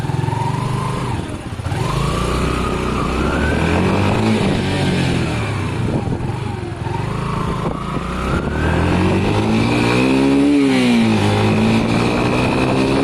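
A Honda CB250 motorcycle engine running after a carburettor installation, loud and close throughout with steady mid-pitched engine drone and rising revs near the end, no talk over it.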